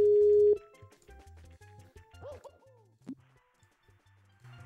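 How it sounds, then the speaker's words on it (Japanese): A steady telephone tone sounds loudly for about half a second, then gives way to quiet game music and blips. "あ、電話かかってきてた。"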